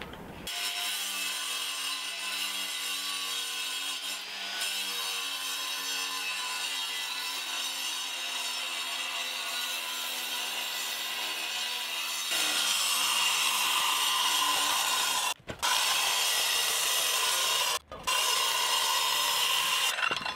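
A power saw cuts into an old concrete path in a sustained, loud grinding whine that holds steady for long stretches, grows harsher partway through and breaks off briefly twice before carrying on, with no one talking.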